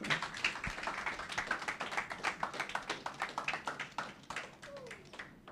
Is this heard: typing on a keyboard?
no